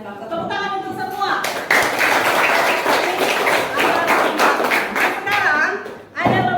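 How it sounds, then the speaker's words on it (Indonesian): Classroom applause for students in an Indonesian civics lesson, dense continuous clapping filling about five seconds, with voices mixed in and a sudden stop near the end. "Tepuk tangan untuk semua."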